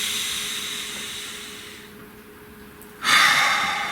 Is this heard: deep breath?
yes